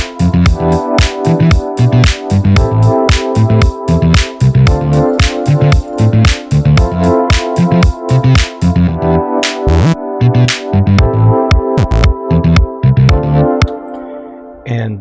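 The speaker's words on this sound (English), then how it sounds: "So with the chords, the bass, and the meat of the drums, it sounds like this." Chords, bass and punchy sampled drums from a cover song play together as a full, loud production groove, with steady beats running for the whole stretch before cutting off near the end.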